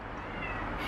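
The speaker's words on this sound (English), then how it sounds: "I don't know if you can hear my cat over here." A brief cat meow, partly buried in steady broadband room noise.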